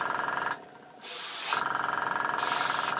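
Bursts of hissing paint spray from a spray gun onto a Bluebird K7 model over a steady mechanical pulse, cutting off briefly and resuming, close by.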